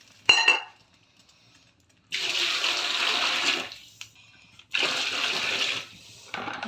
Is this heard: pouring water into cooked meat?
yes